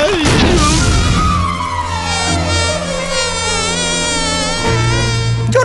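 A fly buzzes loudly and close for several seconds, its harmonic drone wavering in pitch as it moves, with no speech over it.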